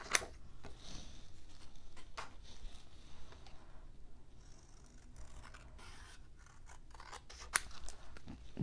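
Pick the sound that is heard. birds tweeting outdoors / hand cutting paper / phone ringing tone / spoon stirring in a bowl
hand cutting paper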